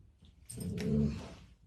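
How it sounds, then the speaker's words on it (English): A dog lets out a single short, soft bark or yelp indoors, faint and brief, with no talk around it. "that's my dog commenting"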